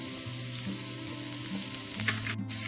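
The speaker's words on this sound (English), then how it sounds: "I have kept a wok for heating. To this I have added 3 tablespoons of oil. I'm going to add the garlic" Garlic and ginger sizzle in three tablespoons of hot oil in a wok, a steady close frying hiss with low rumbling tones from the burner and no talk.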